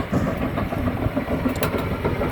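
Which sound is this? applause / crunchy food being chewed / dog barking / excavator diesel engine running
excavator diesel engine running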